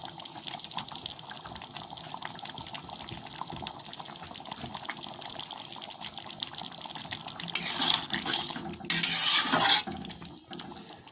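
Egg paneer curry is stirred in a pan with faint scraping and a low simmer, followed near the end by two louder bursts of hissing, splashy noise.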